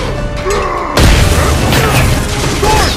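A grenade blast in the Halo 4 video game bursts in loud and sudden after a second of quieter battle noise, followed by a dense rumbling crash and ongoing combat clatter.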